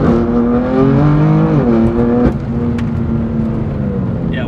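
BMW M4 GTS with its S55 engine and aftermarket exhaust, revving loudly and close with a rising, steady tone, then dropping back to a lower, smoother drone as it eases off.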